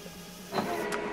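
An HP Colour LaserJet printer runs colour calibration, giving a low steady mechanical hum that swells into brief whirring bursts partway through, close and moderately quiet with no voices.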